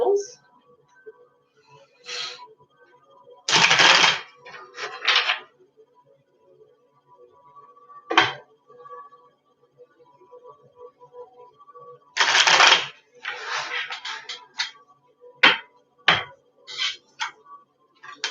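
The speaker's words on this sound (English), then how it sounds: "3 shuffles." A deck of tarot cards is shuffled in short riffling bursts, three main clusters of crisp flutters and taps with quiet gaps between, close and clear.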